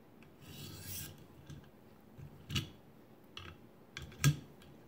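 A knife being sharpened on a ViperSharp sharpener, giving soft scraping rasps in short, irregular strokes with a couple of louder strokes near the end, close and fairly quiet.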